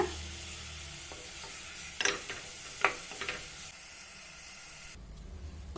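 Chicken pieces fry in a pan until browned for chicken chukka, giving a steady close sizzle with a few sharp stirring scrapes and clinks near the middle and a brief louder hiss toward the end.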